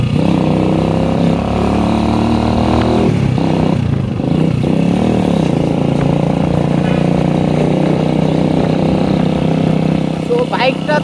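A modified cafe racer motorcycle is being ridden, its engine a loud, steady droning hum up close that shifts tone and revs around the third second, then settles into a constant rough roar.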